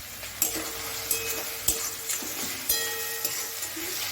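Chopped tomatoes go into a hot pan for matar paneer: a soft sizzle under repeated spoon scrapes and light metallic clinks against the pan, no one talking.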